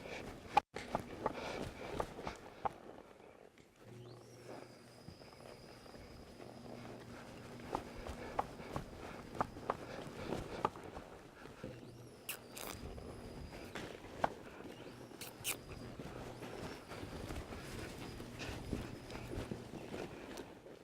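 Horse hooves walking during a horse training session, a series of soft, quiet clip-clop steps in an irregular rhythm at moderate distance, with faint background noise and no talk.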